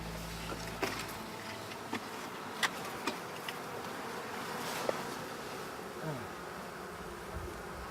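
Honey bees buzz softly around sage flowers in the Balkans, a faint steady hum of several insects close by, with a few light ticks and knocks scattered through.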